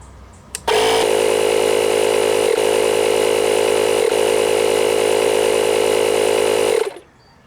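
A JFEGWO cordless rechargeable tire air pump inflates a low tire toward 35 psi with a loud, steady, close motorized buzz. It starts abruptly after a click and runs for about six seconds before cutting off.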